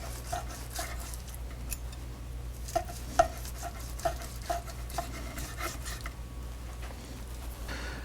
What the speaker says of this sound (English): I'm going to slice some of this off